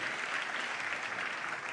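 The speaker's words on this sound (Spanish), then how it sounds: "un aplauso para todos" Audience applause at a Tecnológica14 talk by Francisco Polo on social change, a steady dense wash of clapping filling the whole short stretch at moderate level with no voices.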